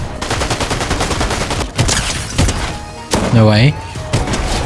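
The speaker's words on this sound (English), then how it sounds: "how did I shoot that kid through his stairs?" Rapid bursts of gunfire from the video game Fortnite crackle through the first half, sharp and close, then trail off as a voice speaks over scattered thuds.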